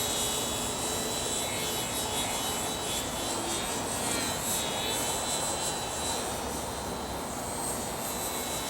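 An E-Flite AS3Xtra RC model airplane flies on a windy day, its electric motor making a steady, continuous whine and drone that holds at a fairly even level throughout, with no talk.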